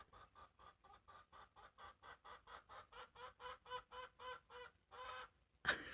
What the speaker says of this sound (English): I think I hear a chicken